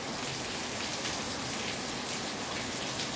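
Steady, dense rain pours down during a thunderstorm, a continuous broadband hiss of drops hitting surfaces with no pauses, loud and close throughout.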